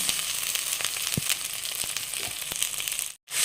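Masala with cashew paste and raisins fries in oil with a close, steady sizzle, broken by sharp spatula scrapes and stirring knocks, then a brief silence just before the end.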